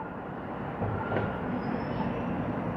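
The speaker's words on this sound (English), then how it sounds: "There goes a westbound train." Westbound Toronto subway train on Line 2 near Danforth and Bloor, a low rolling rumble with a brief faint wheel squeal, heard at a moderate distance from outdoors.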